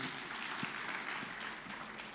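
A church congregation applauding for Jesus during an online worship service, a soft, distant wash of continuous clapping at low level with a few sharper claps standing out.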